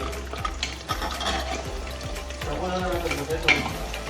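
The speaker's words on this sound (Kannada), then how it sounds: "ಸ್ವಲ್ಪ ಈರುಳ್ಳಿ ಗೋಲ್ಡನ್ ಕಲರ್ ಬರೋಂಗೆ ಫ್ರೈ ಮಾಡ್ಕೊರಿ" Onions frying in oil until golden, a close sizzle with regular rhythmic scrapes and knocks of a spatula stirring the pan at roughly two strokes per second, with no talk.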